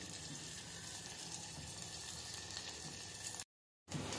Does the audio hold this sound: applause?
no